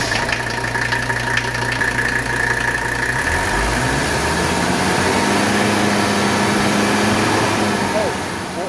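A 1983 Mercedes 300CD engine runs at a steady idle, a continuous low rumble that shifts slightly partway through and stays loud and close.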